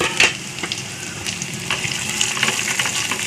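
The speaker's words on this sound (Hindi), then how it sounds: "प्याज को, हल्का इसके अंदर सौते करेंगे।" Sliced onions sauté in a hot pan with garlic, giving a soft, steady sizzle with scattered crackles and brief stirring scrapes, moderately quiet and close.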